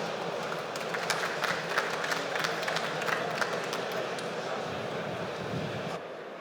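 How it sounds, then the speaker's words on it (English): A conference audience applauds after a talk, with dense, steady clapping from a room full of people for about six seconds before it fades out. "Round of applause, please."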